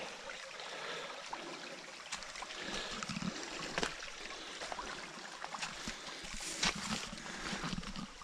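Water in a small, low stream trickles and gurgles steadily at a faint level, with light splashes and outdoor rustle over the continuous flow.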